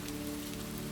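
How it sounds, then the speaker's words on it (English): Steady rain falls at night in pine-covered Oregon mountains, a dense, even patter on surfaces with no voices. "The rain slackened"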